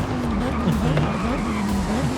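A Lamborghini Sesto Elemento brakes hard from sixth gear on a race circuit in Forza Horizon 5, its engine tone sliding under a continuous tire squeal and skid, with a voice talking over it.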